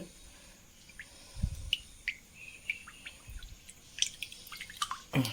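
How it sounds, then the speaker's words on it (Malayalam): Rice bran oil trickles and drips into a pan, with soft scattered drips and small clicks in a quiet room. "നമ്മൾ ഓയിൽ ഒഴിച്ചു കൊടുക്കാം. റൈസ് ബ്രാൻ ഓയിലാണ് ഒഴിക്കുന്നത്."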